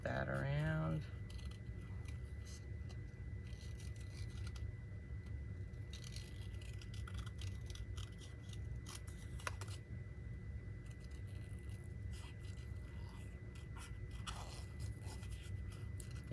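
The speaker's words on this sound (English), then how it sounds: "If you turn the paper rather than the scissors, it's easier to fussy cut." Scissors snip slowly around paper card during fussy cutting, soft quiet clicks and scrapes scattered over a steady low hum from a nearby furnace, with a brief voice at the very start.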